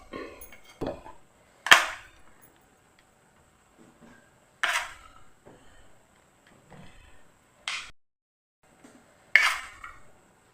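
A spoon clinking against a dish while filling squid with spiced masala for a Malabar-style stuffed squid, sharp scattered clicks and taps spaced a few seconds apart in a quiet kitchen, no talking.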